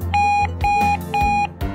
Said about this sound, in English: our 102 decibel extra loud alarm with adjustable tone and volume control